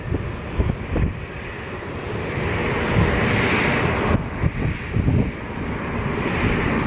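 A Southwest airliner pushes back at a windy Columbus airport, its engines producing a steady, moderately loud broadband roar with gusty wind buffeting the microphone in thumps throughout.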